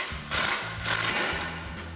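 A ratchet on a 19mm socket works a ball joint nut loose on a 2011-2019 rear-drive Dodge Charger's front control arm, its clicking bursts repeating in two or three close, metallic strokes.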